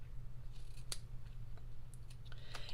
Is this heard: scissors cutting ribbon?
yes